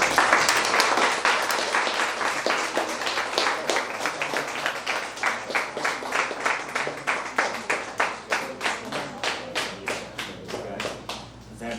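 An audience applauds, starting as a dense burst of clapping that thins into fewer, distinct hand claps with a loose rhythm before fading at the end.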